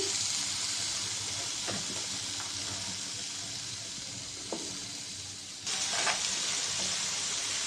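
Bitter gourd and potato frying in a pan with lightly fried onion, a steady soft sizzle with a few clinks of stirring, growing louder and brighter near the end, with no talking.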